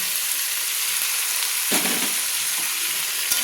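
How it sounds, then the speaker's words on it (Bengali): Dhaba-style fried chicken sizzles loudly as it is stirred into masala in a pan, a continuous crackling hiss with a few scraping stir strokes and no talk. "আমি চিকেনগুলো মশলার সঙ্গে তুলে দিলাম দিয়ে কিন্তু আমি ভালো করে নেড়ে নিলাম"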